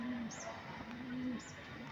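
A pigeon coos softly at a racing pigeon loft as the birds return home, two low drawn-out calls separated by a pause, faint against quiet background noise.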